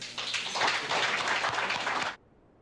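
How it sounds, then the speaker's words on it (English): Audience at a county sheriff's forum applauds a departing guest, a steady broadband patter of many hands clapping for about two seconds before stopping abruptly, leaving near silence. "How about a round of applause for Steve?"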